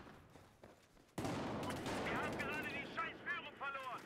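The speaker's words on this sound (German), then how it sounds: "Wie kann er denn 3 Schüsse mit der Shotgun überleben?" Gunfire from Battlefield 4 bursts in suddenly after a quiet lead-in, loud and dense with overlapping shots, with voices talking briefly over the din.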